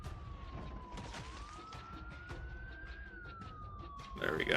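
Emergency siren from the video game Project Zomboid, a continuous wailing tone that slowly rises and falls, moderately distant with background noise growing louder at the end.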